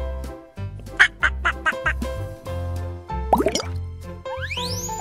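Several short nasal duck quacks in quick bursts, close and loud, over a steady low musical backing, ending with a rising whistle-like sweep.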